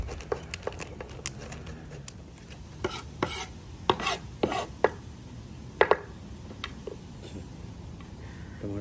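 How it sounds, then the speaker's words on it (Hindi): A knife chops soft tomatoes on a board in an outdoor kitchen, a run of sharp irregular thuds and clicks close by, louder in the middle and fading toward the end, with no talking. "अब ये टमाटर काट लेते।"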